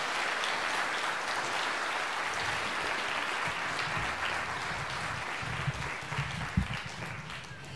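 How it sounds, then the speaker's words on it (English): Parents applaud after an elementary school strings concert piece, a steady wash of many hands clapping at moderate level, with a few louder claps and thumps near the end. "Can we get another round of applause?"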